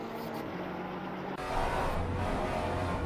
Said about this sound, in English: Let's switch over and listen to just the audio of this car.